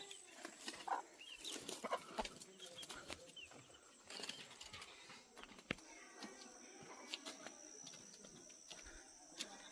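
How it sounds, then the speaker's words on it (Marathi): Scattered clucks and soft calls from several chickens in a small village lane at the foot of Raigad Fort, with occasional rustling and wing flaps, fairly quiet in an open outdoor setting. "दोन्ही बाजूने हे कोंबडी आहेत"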